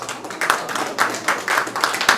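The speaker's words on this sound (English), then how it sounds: "clap it up for me" An audience at a stand-up comedy set claps in scattered, uneven bursts, a few distinct hand claps standing out near and fairly loud over a short stretch.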